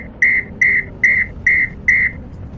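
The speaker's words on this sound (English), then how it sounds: "Short consecutive sound" A traffic police whistle gives five short, sharp blasts in an even rhythm, loud and close, with faint traffic rumble beneath.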